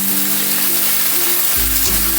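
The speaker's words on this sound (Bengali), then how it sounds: "এবার গ্যাসটা আমি মিডিয়ামে রেখে কচুগুলো ভালো করে লতিটাকে আমি ভেজে নেব।" Taro stolons with salt and turmeric frying in a pan over a medium gas flame, a loud, steady sizzle throughout with a low hum from the stove, and no talk.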